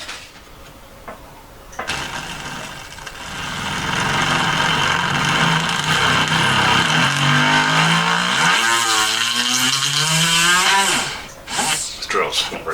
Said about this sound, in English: This drill's not very good.